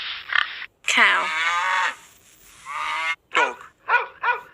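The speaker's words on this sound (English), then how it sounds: "cow" A cow moos in several calls: a long drawn-out low then rising moo, then a sustained call, followed by three short clipped moos in quick succession, close and fairly loud.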